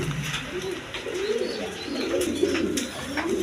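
A pair of Sirazi pigeons in Lahori plumage coo in close, repeated rolling phrases, with faint background chatter.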